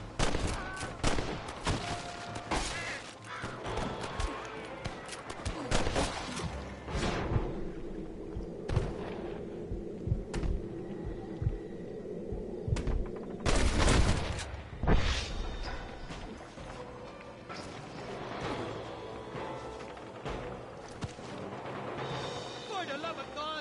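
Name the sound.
gunfire from enemies in Red Dead Redemption video game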